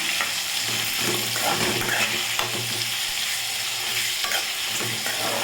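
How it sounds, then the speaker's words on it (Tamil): Tomatoes and onions sauté with salt in a pan, a continuous close sizzle with repeated scrapes and taps of a spoon as they are stirred, steady and unbroken, with no voice present. "சேர்த்து நல்லா வதக்கிக்கோங்க பாருங்கள் நமக்கு தக்காளி வெங்காயம் நல்லா வதங்கி போச்சு"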